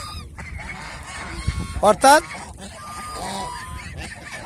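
Domestic geese kept for egg laying give two loud, close honks in quick succession midway through, with someone talking before and after them.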